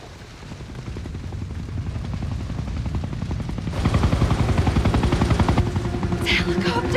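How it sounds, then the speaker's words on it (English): A helicopter's rotor thumps steadily close by, growing louder and more intense partway through, with a brief higher whine near the end. "The helicopter!"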